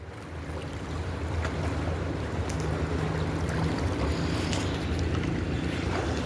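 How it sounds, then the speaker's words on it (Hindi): Wind and waves at a beach on the Ganges river, a steady roar of gusting air and washing water with buffeting on the microphone, continuous and fairly loud with no voices. "गंगा नदी का सी बीच।"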